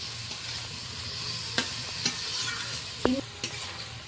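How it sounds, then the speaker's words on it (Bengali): Marinated prawns are stir-fried in spice masala, with a steady soft sizzle broken by several sharp spatula clacks against the pan and a brief scraping squeak. "মশলার সাথে চিংড়ি মাছটা বেশ ভালো করে আমি 2-3 মিনিট ধরে নেড়ে নেড়ে কষিয়ে নিলাম"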